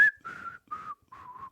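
A person whistles a short tune of four sustained notes separated by brief pauses, close and clear with no talking over it.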